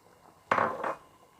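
Sugar being mixed into tamarind chutney in a pan, a single brief scrape and clatter of a spoon against the pan, close and fairly quiet, lasting about half a second.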